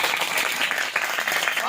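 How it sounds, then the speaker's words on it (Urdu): A congregation at a Christian worship service claps loudly in praise, a dense steady wash of applause with no pause across the moment. "زوردار تالیاں خدا کے جلال کے لیے"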